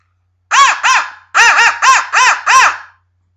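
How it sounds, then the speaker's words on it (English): A crow locator call used for turkey hunting, blown in six loud, harsh caws: two close together, a short pause, then four more in quick succession, all near and clear with no other sounds. "give a couple blows on this crow call, the gobblers might gobble at it."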